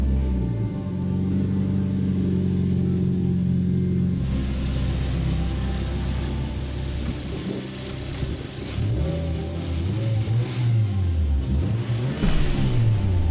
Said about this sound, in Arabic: وهذا يمكن اغرب تشغيل راح تشوفه بحياتك حق سيارة، اذا تقدر تسميها سيارة